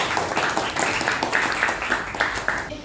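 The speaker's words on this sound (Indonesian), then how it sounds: "Beri tepuk tangan untuk teman kita." A classroom of students claps for a classmate in a roughly rhythmic, evenly spaced pattern, close and moderately loud for about three seconds.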